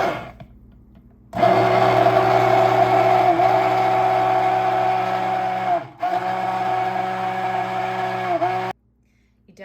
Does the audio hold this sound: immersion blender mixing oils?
yes